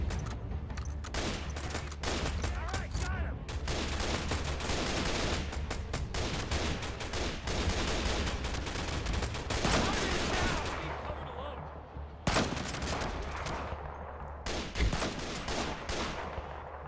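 Rapid, dense gunfire from the Flawless Sniper game, sustained bursts of automatic shots and loud battlefield blasts filling the whole stretch, with a brief lull before firing resumes.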